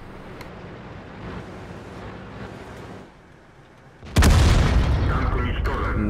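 Loud, close tank cannon blast in a video game aimed at a Comet tank, a sudden boom that cuts through quieter battle noise and talk, then rumbles on with a long, dense tail.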